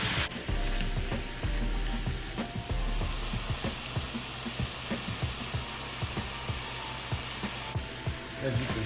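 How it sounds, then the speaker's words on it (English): Ground beef for a chopped cheese sandwich frying on a griddle while a metal spatula breaks it up, steady loud sizzle under repeated sharp scraping clicks and taps. "let's go ahead and start getting our meat broke up"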